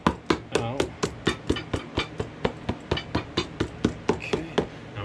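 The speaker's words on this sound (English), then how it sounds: "So go ahead and hammer all that out." A shoe's leather sole is hammered on a last, with about eighteen sharp, close taps in a steady, quick rhythm, each ringing briefly, and no talk over them.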